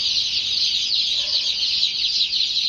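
Chickens cluck steadily over a constant high hiss of background noise, with no talking.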